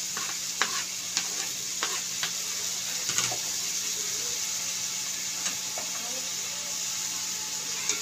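Onion, green chili and coriander frying in a pan for zhunka, a soft steady sizzle running throughout with several sharp stirring clinks and scrapes, close and fairly quiet, no talk.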